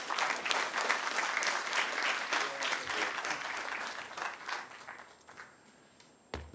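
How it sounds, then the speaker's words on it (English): Applause for Max Everest-Phillips, a UNDP Global Centre for Public Service Excellence director, at a closing panel: dense sustained clapping from a seated audience that gradually thins and fades out. "Final round of applause for today, Max Everest-Phillips."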